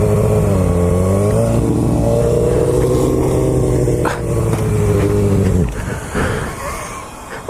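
A Honda F4i motorcycle holds a loud, close, buzzing engine note during circle wheelies, wavering up and down in pitch before dropping away near the end, with no talking over it.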